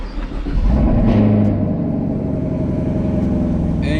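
A Chevrolet SS engine catches and revs, a loud, rumbling burst that settles into a steady, throaty drone close by.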